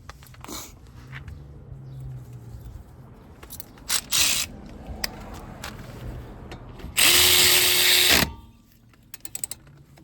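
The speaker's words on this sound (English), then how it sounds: "Put the bolt back in there, we're going to tighten that up." A power tool tightens a bolt on a Nissan Versa front brake during a brake job, a loud buzzing run of about a second after scattered clicks and clanks of tools, close by.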